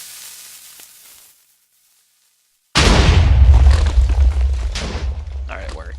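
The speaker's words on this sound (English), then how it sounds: "Now, if this TNT cannon works right, it should just go straight forward." A TNT cannon goes off in a video game with a sudden loud, close blast after near silence, followed by a rumbling, crackling tail of debris.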